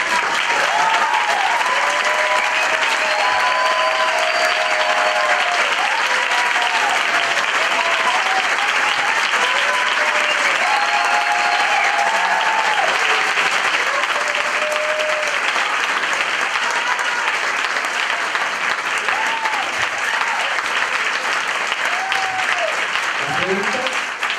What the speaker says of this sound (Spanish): Primero, un fuerte aplauso.